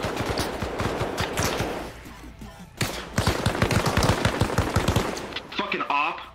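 Assault rifle gunfire in the Arma Reforger video game during a gang ambush. Loud, rapid automatic bursts sound close by, then a brief lull, then another heavy burst, with voices underneath.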